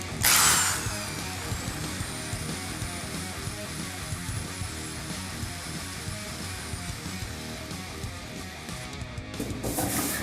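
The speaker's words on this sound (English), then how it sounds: "I'm going to sand this off all the way around this tank" Sanding around a metal fuel tank for a pro-touring F-body, a steady close rubbing rasp with a sustained whine, starting with a brief louder burst and running continuously to the end.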